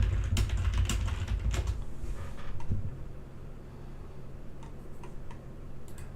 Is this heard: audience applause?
no